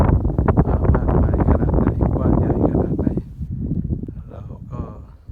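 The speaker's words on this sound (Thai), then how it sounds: "จะมีเสียงลม พัดบ้าง" Strong desert wind buffets the microphone in loud, gusty bursts that ease off partway through, while someone speaks over it.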